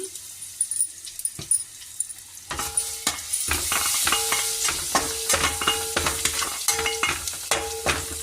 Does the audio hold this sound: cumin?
yes